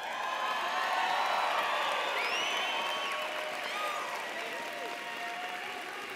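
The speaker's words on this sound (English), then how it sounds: "It's your opportunity to clap, to shout, to scream, to make a lot of noise as you demonstrate your intense emotions." A commencement crowd at a university college of education ceremony claps, cheers and lets out high whoops and shouts, a broad sustained roar that carries throughout and eases slightly toward the end.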